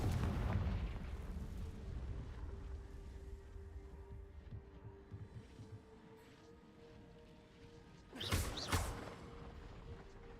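A Confringo spell blast in the Hogwarts Legacy video game, a deep rumbling boom with crackling debris near the end, rising out of a low ambient game bed, with no talk.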